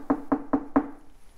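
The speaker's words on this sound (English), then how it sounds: "He knocked on the door" Four sharp knocks on the door of a stick house, evenly spaced and close, with a short pause before the last one and no voices during them.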